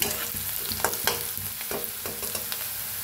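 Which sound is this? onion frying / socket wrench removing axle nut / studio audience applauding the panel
onion frying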